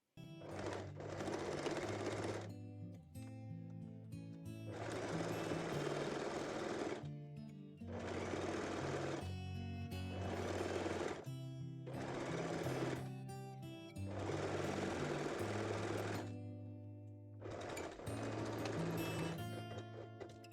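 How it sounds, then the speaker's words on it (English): A sewing machine runs in steady bursts while stitching and backstitching the front crotch seam of lace Brazilian panties, with about five loud sustained runs separated by short pauses and no talk. "stitch the front crotch seam, and backstitch at the beginning and at the end of this seam"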